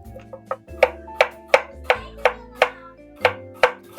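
A knife cuts an apple into thin slices on a board, giving a steady run of about a dozen crisp, close chops at an even rhythm over soft background music, with no talking.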